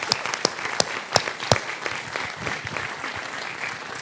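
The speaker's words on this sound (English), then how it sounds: "Ladies and gentlemen, please give him a round of applause." An audience applauds as European Aquatics President Antonio Silva is welcomed to the stage at a Learn To Swim Conference opening, a dense steady clapping with a few sharper claps standing out near the start.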